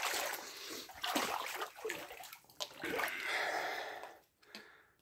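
Water stirring and splashing in a flooded crawl space, standing about 50 cm deep, with close, irregular sloshes and drips running throughout.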